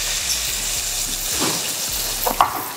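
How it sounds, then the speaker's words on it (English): Jerk chicken sizzles and crackles steadily in a hot pan, a close continuous frying hiss with a few brief pops and stirring scrapes. "you hear that? Sizzling."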